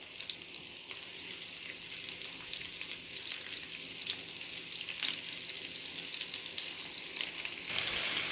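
Round pieces of food brown in a pan for a weeknight dinner, sending up a steady, fairly soft frying hiss and crackle that stays even throughout with slight swells.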